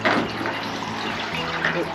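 Ice-cold water pours from a tap or shower in a rental house in New Zealand. It makes a steady, close, hissing rush, and voices speak briefly over it.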